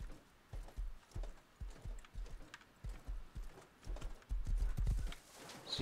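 Horse hooves clip-clopping in the video game Rust, a steady rhythmic trot of close, distinct thuds that quickens and grows louder near the end.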